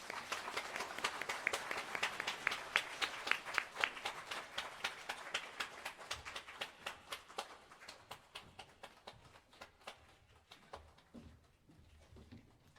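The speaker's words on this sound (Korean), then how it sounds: "박수 좀 주시죠." Church congregation at a Korean Christian service applauds new full members, a dense burst of clapping that gradually thins out and fades toward the end, with a few scattered claps lingering.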